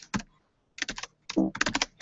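Bursts of rapid computer keyboard typing as shell commands are entered, short clusters of crisp key clicks separated by pauses, close and clear with no talking.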